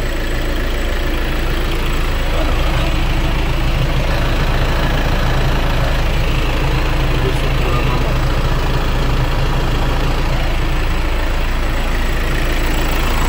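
A Volkswagen-group car engine, warmed up and with a coolant leak at the intake manifold, idles with a constant low rumble, steady and unchanging throughout, close by and fairly loud.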